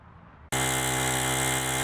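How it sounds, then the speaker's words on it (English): Water pump draining rain-flooded ball fields, a loud steady mechanical whine and drone that cuts in abruptly after a quiet half second and holds constant to the end. "That's the sound of water being pumped out from the ball fields."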